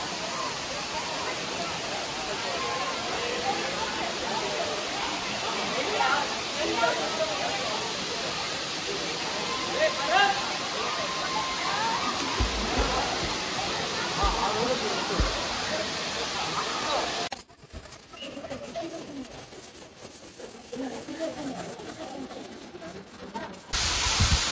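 Water rushes at Talakona waterfall near Tirupati as a constant loud hiss. The roar dips quieter for a stretch late on, then surges back at the end.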